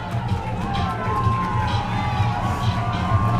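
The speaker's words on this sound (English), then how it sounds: "Warhawk players want some noise. And this crowd is happy to oblige." Football crowd at a varsity high school playoff game cheering in a steady, loud roar of voices and shouts, with an announcer talking over it.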